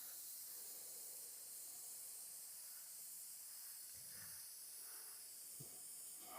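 An airbrush spraying paint, a faint continuous high hiss of air and paint mist heard alone, with a few soft low bumps near the end.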